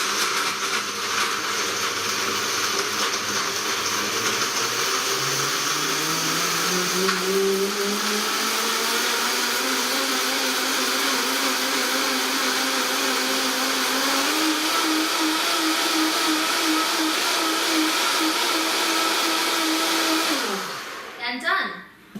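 A blender runs loud and continuous mixing a smoothie, its motor pitch climbing and settling as the contents churn, then winding down abruptly at the end.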